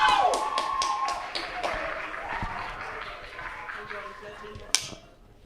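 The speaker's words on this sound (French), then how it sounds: "On applaudit bien fort!" An audience claps at a local event honouring teachers, scattered hand claps rising at the start and thinning out over several seconds, with a voice speaking over them.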